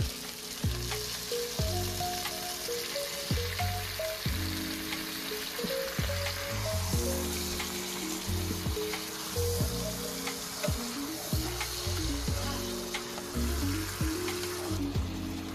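Chicken pieces go into a pot with ginger and sizzle steadily, with repeated clanks and scrapes of a utensil stirring through a continuous moderate frying hiss, no voices.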